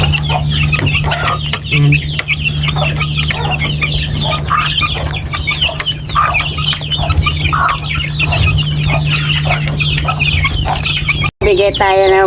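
Chickens and chicks cluck and cheep continuously nearby, a busy, loud mix of peeping and clucking with a brief spoken word near the end.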